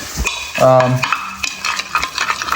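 Chicken marinade with oyster sauce being mixed by hand in a bowl, a short burst of close, wet stirring and scraping with a few sharp utensil clinks against the dish.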